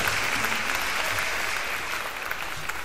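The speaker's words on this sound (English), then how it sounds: "I want you to put your hands together one more time to provide a round of applause" A live concert audience gives a dense, sustained round of applause, an even wash of clapping throughout with no voices standing out.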